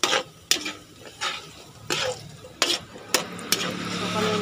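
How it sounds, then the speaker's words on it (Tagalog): Food frying in a pan with a utensil stirring and scraping, repeated sharp clacks against the pan over a steady sizzle, close by, while cooking pinakbet. "Kanina pa tayo nagpiprito."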